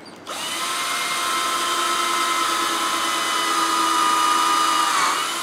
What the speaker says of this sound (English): Now I'm going to drill them through.